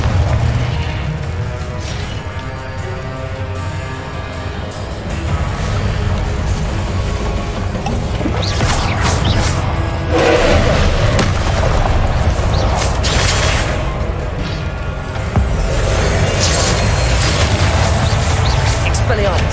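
Spell blasts and explosions fire in the Hogwarts Legacy video game, a loud, dense rumble of booms and crashes running almost unbroken, with voices heard through the din.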